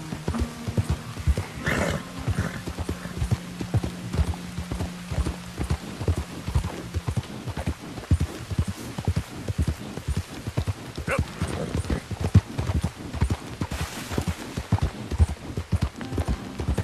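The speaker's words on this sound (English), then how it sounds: "When you're running on flat ground with your horse, if you're just galloping like this, you're not going to lose stamina" A horse gallops across flat ground in Red Dead Redemption 2, its hoofbeats pounding in a rapid continuous rhythm throughout, with a brief whinny and faint bits of talk in the mix.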